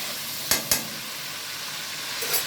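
Eggs frying in oil are stirred with a spatula, giving two sharp scrapes early on and a softer one near the end over a faint, steady sizzle, with no talking.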